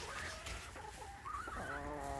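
A pet rooster clucks and calls close by in a noisy room, giving a string of rising, wavering cries that end in a drawn-out crow.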